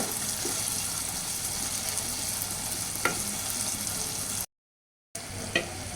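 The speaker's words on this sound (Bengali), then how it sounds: "আমি আগে চিংড়ি মাছগুলোকে হচ্ছে ভালো করে বেজে নিচ্ছি" Small sea shrimp frying in a pan give off a dense, continuous close sizzle with a couple of faint clinks, interrupted by a brief total silence before the sizzling resumes.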